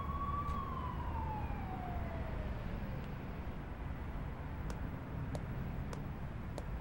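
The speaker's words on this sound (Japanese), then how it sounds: "さっきからやたらとパトカーが走り回っている。" Distant police car siren in a PS2 video game night street scene, a faint falling wail early on that fades under a steady background hum, with a few soft ticks afterward.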